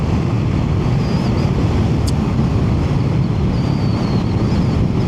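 Triumph Scrambler 400X motorcycle cruising at speed around 60–75 mph, a steady broadband engine and road roar heavily mixed with wind buffeting, constant and loud throughout with no voice.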